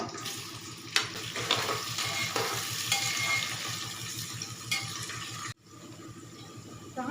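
Chopped onion hits hot oil with garam masala and bay leaves in a pressure cooker and sizzles steadily, with rhythmic scraping stirs close by. Everything drops away abruptly near the end before a quieter sizzle returns.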